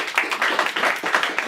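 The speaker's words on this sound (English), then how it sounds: "Round of applause for the starter." An auction audience claps for a starting bid on a property, a dense, steady patter of many hands at moderate loudness for a short stretch.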